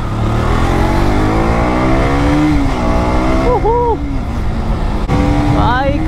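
A KTM superbike engine revs hard while being ridden, loud and close, its pitch climbing and dropping through gear changes, with wind noise and someone talking over it.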